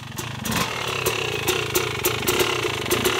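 A Yamaha YZ250 two-stroke dirt bike with a Rekluse auto clutch, sitting in first gear with no clutch held, runs steadily near and loud, its engine chatter broken by regular sharp rhythmic bursts.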